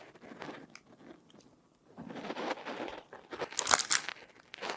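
Crisp bites and crunching of chocolate-covered potato chips, a Japanese convenience store snack, starting quiet then growing louder with sharp crackling chews close to the mouth.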